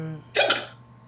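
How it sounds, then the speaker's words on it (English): A man's hiccup, a single sharp, close burst of breathy sound with a quick double pulse, set against a quiet room with a faint low hum. "You have the hiccups, huh?"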